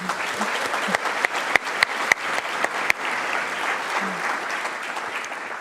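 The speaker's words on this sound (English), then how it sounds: "Let's do a round of applause to everyone who made this moment possible." An audience at a community leadership program gathering breaks into sustained applause, a close, even wash of clapping with a few sharper individual claps standing out.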